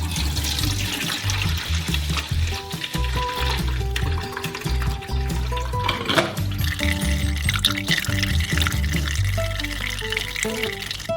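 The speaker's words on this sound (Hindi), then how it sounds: "हम इसे छलनी से बाल्टी में डालते हैं।" Juice from juiced oranges splashes as it is poured from a cup through a sieve into a bucket, a steady close-up trickle and gurgle of liquid with bright splashing over about ten seconds, no voices.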